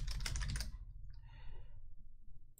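Quick, close computer keyboard typing in a dense burst that stops after a moment, leaving a quiet room with faint rustling.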